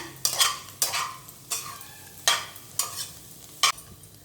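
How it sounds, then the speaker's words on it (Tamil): Bitter gourd stir-fried in oil, with a soft sizzle beneath seven or so crisp spatula scrapes at roughly half-second intervals, close by and without any talking. "அதுவும் எண்ணெயில் இதிலே போட்டு வதக்கி எடுத்துடுங்க"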